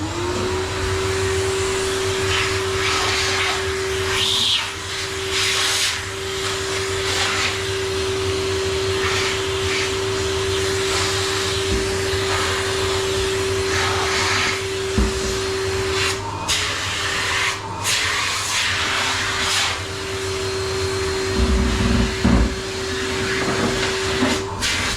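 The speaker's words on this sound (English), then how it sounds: "I'm going to hoover my mess up." A vacuum cleaner hoovers up workshop debris after porting a Formula Ford crossflow cylinder head, a loud, steady droning whine that runs continuously and close by, changing pitch slightly near the end.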